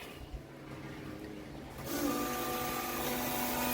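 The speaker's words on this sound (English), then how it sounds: "Fuel pump." An electric fuel pump primes in a turbocharged K24-swapped car: after a quiet, low rumbling start, a steady whirring hum with a thin whine switches on partway through and holds at an even level close by.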